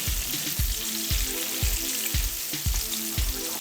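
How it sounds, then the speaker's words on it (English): Jerk-seasoned catfish fries in hot grease, a loud continuous sizzle broken by regular bubbling pops and bursts about every half second, heard close and alone. "the last of my catfish is frying"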